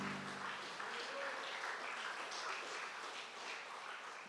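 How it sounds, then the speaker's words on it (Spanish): A church congregation claps in praise during a service, a soft, fairly distant spread of clapping that carries on evenly for about four seconds. "Denle una ofrenda de palmas al Señor."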